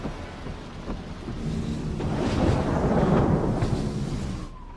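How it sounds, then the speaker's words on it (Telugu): Heavy rain pours steadily with low rumbling thunder that swells in the middle and then fades, loud and close. "ఏంటి ఇలా పడుతుంది వర్షం?"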